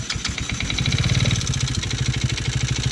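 A Taotao 110cc motorcycle engine, worn and smoking, starts and settles into a rough, fast idle with a rapid, steady putter and a metallic clatter, close and fairly loud with no talk.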